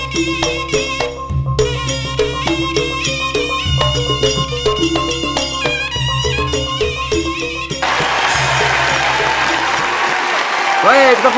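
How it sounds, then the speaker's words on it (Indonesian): Audience applause at a Madurese comedy talent show breaks out near the end, a broad wash of clapping over stage music that plays steadily throughout. "Baik, tepuk tangan untuk"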